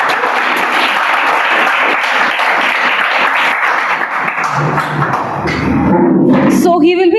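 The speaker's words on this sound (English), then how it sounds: "let's give a big round of applause to our Toastmaster" Meeting-room audience at a Toastmasters club gathering applauds the Toastmaster, dense steady clapping filling most of the stretch before thinning out, with a voice and some thuds near the end.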